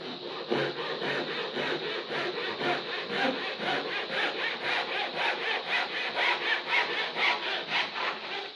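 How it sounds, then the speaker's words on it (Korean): A hand saw cuts through wood in steady back-and-forth strokes, a rhythmic rasping close by, with no talking, during traditional Korean woodworking joinery. "모든 톱질은 프레셔를 가하는 게 아니에요"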